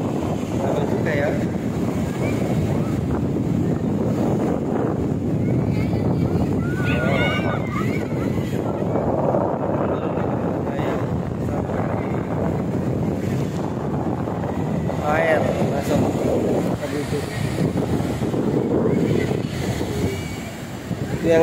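Wind buffets the microphone while waves surge and wash at Mliwis beach in Kebumen, a constant rushing roar throughout, with voices talking faintly underneath.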